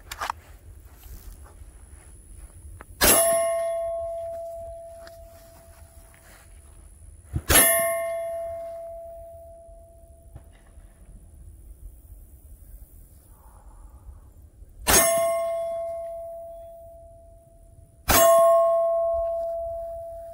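Four sharp shots from a handgun fitted with a red dot sight, spaced several seconds apart, each a crisp loud crack with a ringing metallic tail fading over a couple of seconds, heard outdoors at a training session.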